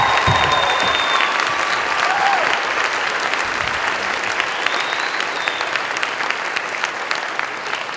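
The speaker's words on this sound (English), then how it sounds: "Please join me in giving them a round of applause one more time." An audience at a high school Veterans Day program applauds veterans with sustained, dense clapping that stays steady and fairly loud for the whole stretch.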